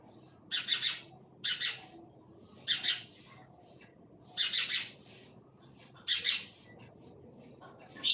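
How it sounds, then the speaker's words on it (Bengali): Birds call close by at a window on a winter morning, sharp squawking chirps arriving in short clustered bursts about once a second or two, separated by quiet gaps. "জানালার মধ্যে চলে এসছে পাখি।"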